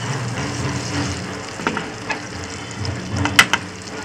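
Green chilies sizzle steadily in hot oil in a home kitchen, a close, even frying crackle with a few sharp clinks of a spoon stirring through the pan, no voices.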